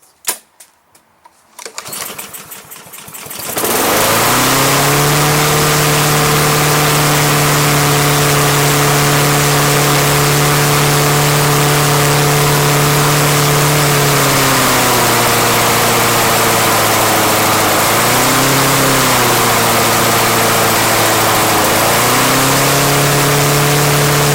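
A Troy-Bilt TB160 lawnmower's Honda engine, which surges, sputters to life after a few pulls, then holds a loud, high steady whine, briefly dipping and recovering near the end.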